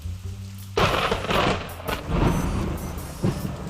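A sudden heavy downpour roars in after a quiet start, with dense rain hiss and low rumbling thunder underneath.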